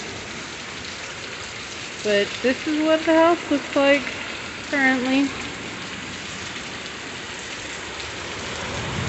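Heavy monsoon rain pours steadily on surfaces around a house, a dense continuous hiss throughout, while a person speaks briefly in the middle.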